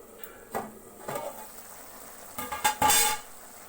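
A pan of prawns is stirred with several scraping clatters of a spoon over a soft background sizzle, the last strokes loudest.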